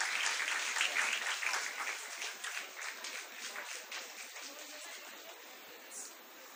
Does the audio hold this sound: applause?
yes